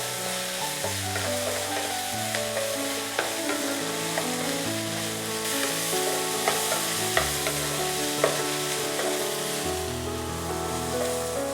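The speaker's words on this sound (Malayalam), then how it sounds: "സവാളയും ക്യാപ്സിക്കവും ചില്ലിയൊക്കെ ആവശ്യത്തിന് വഴണ്ട് വന്നിട്ടുണ്ട്." Onion, capsicum and a spicy green chilli sauté in a pan for chilli beef, giving a steady close sizzle broken by frequent light clicks and scrapes of stirring, with no talking.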